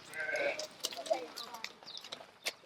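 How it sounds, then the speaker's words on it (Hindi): Goats bleating on a Sojat goat farm, several short close bleats mixed with someone talking over them. "ये देखो अपने घर की बकरी है वो"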